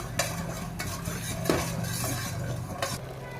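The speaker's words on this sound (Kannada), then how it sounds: "ಪಾಕ ಕುದೀತಾ ಇದೆ" Sugar syrup boils hard in a pan over high heat for a mango chiroti and rava jamun recipe, a dense bubbling fizz with occasional stirring clinks and scrapes, close and steady with no talking.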